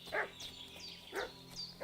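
A dog barks in the medieval role-playing game Kingdom Come Deliverance 2, giving about three separate barks spaced roughly half a second apart at moderate distance, with no talk over them.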